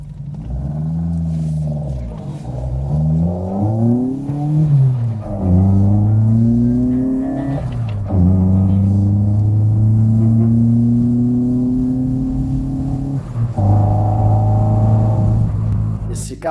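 Fiat 131 Abarth twin-cam engine revving loud and close, the pitch climbing and dropping through repeated gear changes, with brief dips between shifts and steady rumble under each pull.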